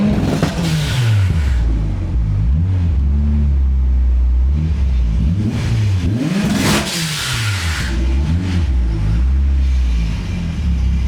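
A turbocharged Nissan 240SX that sat for years is revved repeatedly to blow water out of the exhaust, loud rising and falling engine sweeps over a rough idle rumble, close and continuous with no talking.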